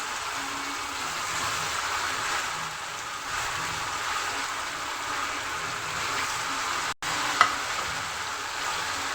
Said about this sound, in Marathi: आता आपण तेलामध्ये वडे सोडून घेऊया.